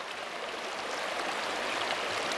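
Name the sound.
river stream flowing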